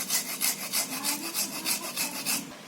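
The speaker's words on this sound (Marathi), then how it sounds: "हे थोडंसं अद्रक घ्यायचं किसून" Fresh ginger grated by hand in a home kitchen, a quick rhythmic series of about a dozen rasping strokes, close and crisp, with no talking.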